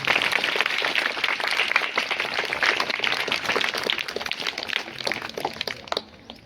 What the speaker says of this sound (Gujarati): આપણે બધા તાળીઓથી વધાવીશું.